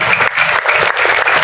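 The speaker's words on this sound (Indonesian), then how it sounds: "Tepuk tangan dong." Audience applause at an alumni reunion gathering of an Islamic boarding school foundation, steady dense clapping from a crowd with no talk over it.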